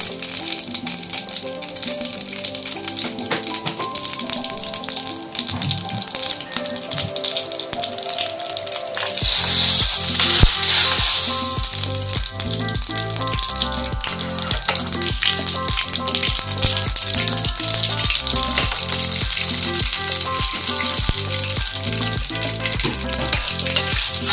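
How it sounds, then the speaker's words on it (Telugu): Tempering seeds and dried red chillies dropped into hot oil, a loud crackling sizzle with dense popping and rattling that intensifies partway through and keeps going steadily, close up with no talk. "ఆయిల్ వేడైన తర్వాత తాలింపు గింజలు వేసుకోవాలి."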